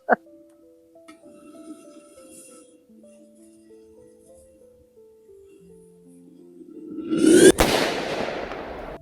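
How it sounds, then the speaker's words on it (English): Handmade cherry bomb firecracker going off under a big pot outdoors in the morning: a fuse hisses and crackles quietly, then one loud sharp blast bursts out, followed by a decaying rumble and rattle. "Cherry bomb versus big pot, guys."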